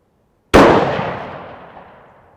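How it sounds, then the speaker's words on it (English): A single loud rifle shot fired while sighting in a Stealth Vision scope at a range, a sharp close crack after silence with a long decaying echo and no talk. "Shoot it one more time there."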